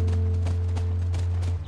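Horse hooves clip-clopping at a steady walking pace in The Last of Us (PS3) at a ranch, close and fairly loud over a constant low game hum, with faint voices in the background.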